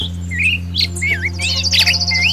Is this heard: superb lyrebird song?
yes